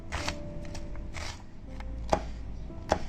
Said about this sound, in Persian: من پیازا رو برشای خلالی میزنم